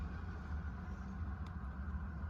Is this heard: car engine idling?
yes